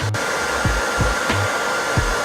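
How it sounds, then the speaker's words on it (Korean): Hair dryer blowing hot air onto Crocs shoes, a loud close steady whoosh lasting throughout with a rhythmic low thumping as the dryer is moved around. "크록스에다가 드라이기로 뜨거운 바람으로 이렇게 요거를 가열해 주세요"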